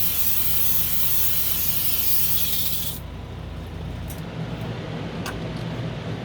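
An airbrush sprays thinned craft paint onto a tumbler, a loud, steady close-up hiss that cuts off after about three seconds, leaving a softer background hum with a few faint clicks.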